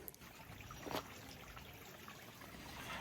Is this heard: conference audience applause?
no